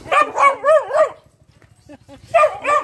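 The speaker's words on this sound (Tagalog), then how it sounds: "Galit yung aso." A dog barks sharply and repeatedly nearby, harsh agitated yaps in quick bursts with a short pause between volleys.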